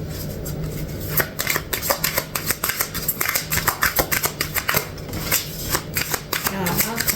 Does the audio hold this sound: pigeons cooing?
no